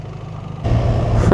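A BMW R1300GS motorcycle engine rumbles at idle, then rises sharply in level and roughness before stalling, all over about a second and a half, close by and with no speech over it.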